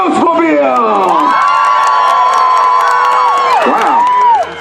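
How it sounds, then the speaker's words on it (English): A crowd at an outdoor car show cheers and whoops at full volume for the Ghostmobile, a loud sustained roar of voices with high children's shrieks rising and falling before it begins to fade at the end. "That's the loudest cheer all summer long from the Ottawa Valley to London, Ontario, now Coldwater."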